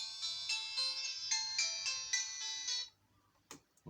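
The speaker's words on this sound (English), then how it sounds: "That's my alarm." Phone alarm ringtone going off in a quiet room: a bright, repeating electronic melody of quick tones for about three seconds, then stopping, followed by a couple of faint knocks.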